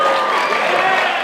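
Conference panel audience clapping and cheering, a brief, loud, dense burst of crowd applause filling the room with no pauses.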